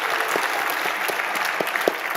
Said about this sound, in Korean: 한번 우리 교육국 스태프들을 위해서 한번 박수 한번 쳐주셔도 될까요?